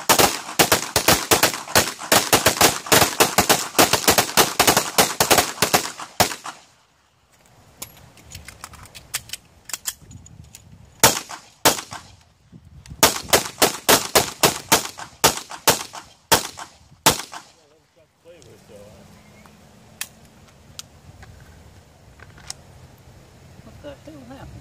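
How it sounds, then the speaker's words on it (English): Rapid pistol gunfire during a shooting training drill, several dense strings of fast sharp shots with brief pauses between volleys, loud and close, with quieter stretches of background noise near the end. "dump all your rounds into that chest area"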